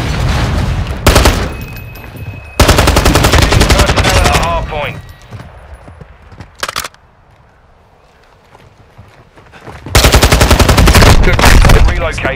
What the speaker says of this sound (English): I'm getting shot at the hard point.